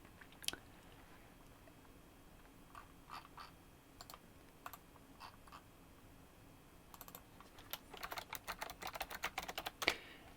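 Sparse clacky keystrokes at first, then a burst of rapid, sharp typing toward the end, close and fairly quiet with no voices.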